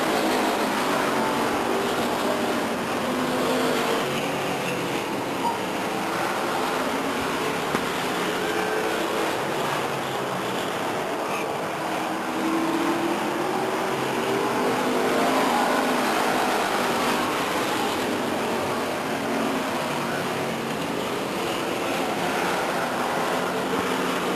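Stock cars racing around Stockton 99 Speedway in 1999, a dense, continuous roar of several engines at a distance that swells and fades slightly as the field circles the oval, with no talking.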